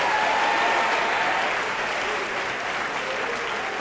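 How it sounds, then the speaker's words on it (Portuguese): A church congregation claps together in sustained, dense applause that fills the space, steady and loud throughout, with a faint tonal hum underneath. "Vamos aplaudir mais ao nosso Deus."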